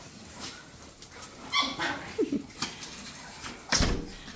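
Mother dogs come back indoors, giving a few short yips, whimpers and barks mixed with shuffling and a door-like thump near the end, fairly close and intermittent.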